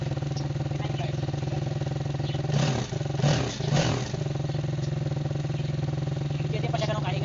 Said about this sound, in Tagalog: once na umiinit na yung makina, masyado nang maingay yung bad clearance natin